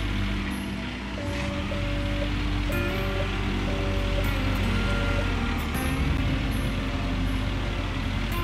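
A heavy mining truck reverses in Gold Rush: The Game, its backup alarm repeating steady evenly spaced beeps over a constant low engine rumble and ambient noise, with no talking.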